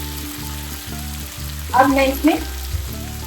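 Drumstick (moringa) pieces and potatoes sizzle steadily in a pan, a close, constant fry under a low hum, with brief stirring scrapes partway through and a few words from a woman.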